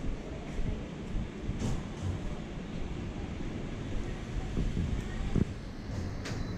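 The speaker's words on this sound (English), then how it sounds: "The sky deck is all open and open to the elements, so it's very windy." Wind buffeting the open-air sky deck of KL Tower in Kuala Lumpur, a constant broadband roar with occasional gusty thumps against the microphone.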